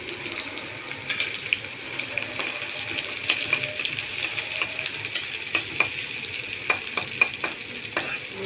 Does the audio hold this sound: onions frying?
yes